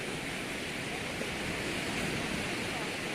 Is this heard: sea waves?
yes